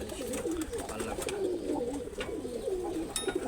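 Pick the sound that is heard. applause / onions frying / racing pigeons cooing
racing pigeons cooing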